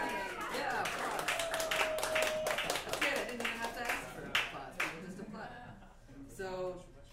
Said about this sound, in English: Yeah, applause!